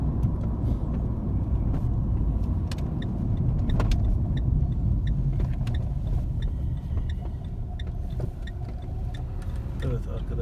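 A car accelerates on a flat road in a steady engine drone heard from inside the cabin, with small ticks and a faint clunk of gear changes, while someone talks throughout.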